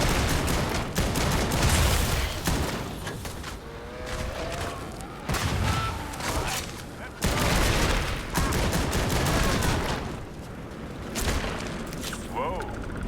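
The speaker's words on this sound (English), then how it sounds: "Where's everything exploding from?" Repeated loud explosions and gunfire bursts from combat in the space game Starfield, heavy blasts arriving in waves with brief lulls between, while someone talks over the chaos.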